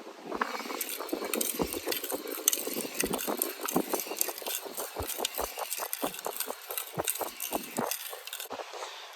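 A Dodge Ram 1500 pickup with a 5.7-litre V8 Hemi idles outdoors, a rough, uneven engine rumble with irregular pulses, partly buffeted by gusty wind.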